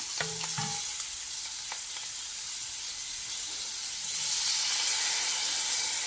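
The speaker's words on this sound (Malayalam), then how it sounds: "ഇനി നമുക്ക് ഈ ഓമയ്ക്ക ഗ്രേറ്റ് ചെയ്തത് അങ്ങോട്ടിടാം." Grated papaya frying in a pan, a steady close sizzle and hiss, with a few brief scraping stirs near the start and the frying growing slightly louder toward the end.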